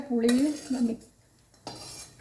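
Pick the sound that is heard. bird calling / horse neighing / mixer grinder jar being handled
mixer grinder jar being handled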